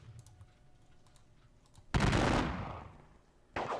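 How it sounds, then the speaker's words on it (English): A burst of gunfire erupts in the Battle of Dennewitz wargame, a loud crackling volley that fades over about a second and a half, followed by another burst, after quiet clicking. "Let's see what happens when I shoot at him."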